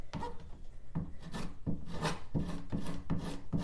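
Terra clay paint scraped across wooden furniture in repeated rasping strokes, about eight rhythmic scrapes, loud and close with no talking.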